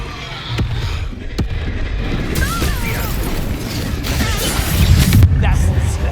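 A Confringo fire spell explodes in Hogwarts Legacy with bursting booms and crackling pops over continuous combat rumble, plus whooshing tonal sweeps, loud and close in a busy game soundscape.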